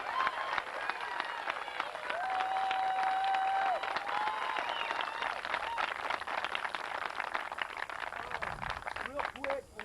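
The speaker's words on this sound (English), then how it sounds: "But I want to give you guys a big round of applause." Applause and cheering from a crowd at a boys' under-12 youth soccer state cup final, steady clapping filling the whole stretch with voices and whistles mixed in, people talking over it near the end.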